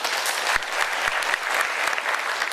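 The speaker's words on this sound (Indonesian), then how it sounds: "Tepuk tangan kita semuanya." Audience applause at an inspirational talk show in Semarang, a loud, dense burst of many hands clapping continuously with a few sharper claps standing out.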